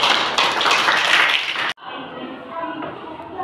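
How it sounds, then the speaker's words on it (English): A first-grade class of schoolchildren bursts into dense, loud clapping that stops abruptly partway through, followed by quieter classroom murmur and voices. "clapping for Lavanya"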